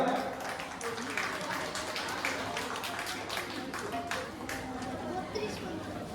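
An audience at a Rabindra-Nazrul evening concert applauds the performers with steady clapping, heard in a crowded hall with chatter and murmuring voices throughout.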